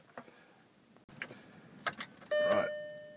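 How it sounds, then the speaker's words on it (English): A car ignition is switched on with an Alpine ICS X8 head unit fitted. Faint clicks and rustles come first, then a clear electronic warning chime rings out and slowly fades. "Right, let's just turn on the ignition."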